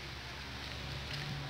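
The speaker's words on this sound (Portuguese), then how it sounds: "E aqui tá chovendo, hein." Rain falls steadily as a dense, even hiss that stays constant throughout and sounds fairly near.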